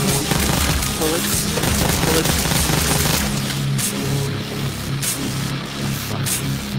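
Dense, loud bursts of virtual gunfire in the VR shooter Pistol Whip, rapid overlapping shots and booms packed into a continuous barrage, easing slightly in the second half.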